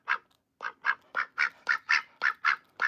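A pet duck quacks in a steady series of about ten loud, close nasal quacks, evenly spaced, with no talk over them.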